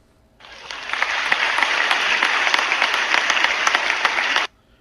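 A nightclub crowd claps after a show, a steady dense wash of applause that starts abruptly, holds at even loudness for about four seconds, then cuts off sharply, with no voices.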